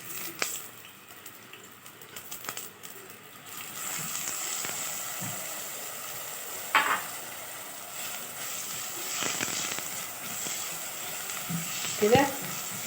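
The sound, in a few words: onions frying in a pan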